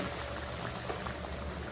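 A curry broth with pointed gourd (potol) and potato bubbles at a steady boil in a pan, producing a continuous soft, close hiss and simmer with no talking.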